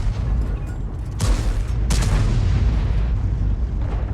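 Artillery rounds fired in a war game: two heavy booming shots about a second apart, loud and close, with a long rumbling tail and no talk.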